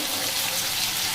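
A little water poured into a pan while making a potato curry to go with moong dal kachori, a steady close trickle over 1 second with no talk.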